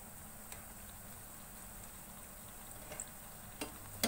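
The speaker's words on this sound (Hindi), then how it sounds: "अब हमने जो ब्रेड के स्लाइस कट करके रखे थे इसमें डालेंगे और इन्हें फ्राई करेंगे" Bread slices frying in hot oil in a pan for shahi tukray, a quiet, even sizzle with a few faint clicks and scrapes near the end.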